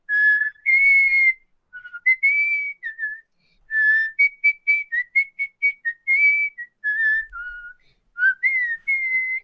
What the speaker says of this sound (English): we start to hear the whistles.